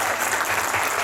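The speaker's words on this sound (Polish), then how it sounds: "więc wielkie brawa dla ciebie" A brief burst of audience applause at a wellness business seminar, dense steady clapping from a large room.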